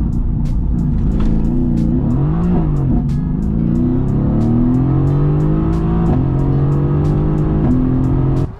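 A loud, close AMG GTS engine in race mode on winter tires revs and climbs steadily through the gears, with rising pitch and brief shifts, powering hard the whole time.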